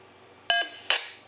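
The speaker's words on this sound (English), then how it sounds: "There's that beep confirmation" Two short electronic beeps from a Wouxun KG-UV920P radio confirming a remote command, the first a clean multi-tone chirp and the second brighter and slightly noisier, close and clear against a quiet background.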